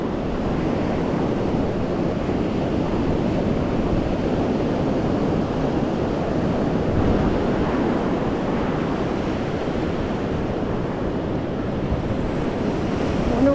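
Ocean waves rolling onto a beach, a steady broad wash of surf with wind buffeting the microphone, continuous and fairly loud with no voices.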